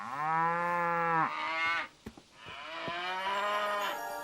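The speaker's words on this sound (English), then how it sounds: "You can look after my cows." Cows moo loudly and close by, one long bellow followed by a short break with a few knocks, then another drawn-out moo, with no talking.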